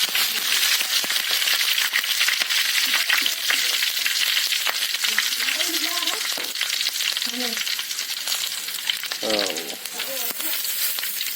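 Loud, dense frying sizzle close up as bay leaves, star anise, cloves and pandan leaves crackle in hot oil for a spicy freshwater mussel stir-fry, with occasional clinks and a few faint voices in the background.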